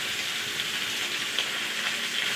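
Crushed shallots and garlic frying in oil in a pan, a steady close bright sizzle with fine crackling and no pauses.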